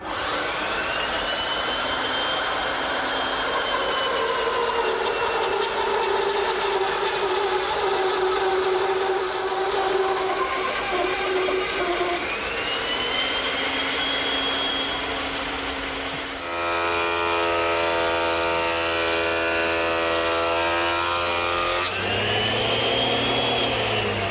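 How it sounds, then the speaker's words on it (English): A bandsaw fitted with a 1-inch blade resaws a board against an auxiliary fence, a loud, continuous whine and rasp of cutting with shifting pitch, then the motor hum running free near the end. "To resaw it, I'm going to use the bandsaw. I'm using a 1-inch blade"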